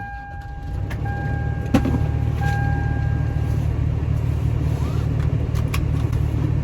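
A 3rd generation Toyota 4Runner fitted with 33-inch tires drives along with a steady low engine drone and road noise from inside the cabin, with a faint whine and a few light clicks.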